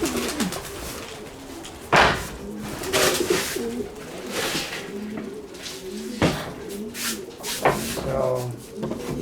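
Pigeons coo and flutter close by in a loft around a heavy feeder, soft repeated calls with a few sharp knocks and rustles, and brief low talk in places.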